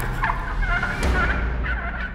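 A farm turkey gobbles loudly and close, a rapid warbling burst of calls repeated over a couple of seconds against steady low background noise.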